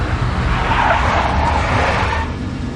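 Tires of a big black Mercedes skid and squeal in the Max Payne video game, one loud continuous screech with engine noise underneath that holds for a couple of seconds before easing off.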